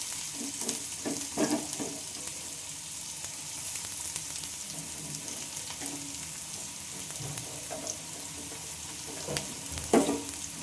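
Thinly sliced onions fry in oil with cumin, cardamom and cinnamon, a continuous soft sizzle broken by occasional spatula scrapes and clinks against the pan.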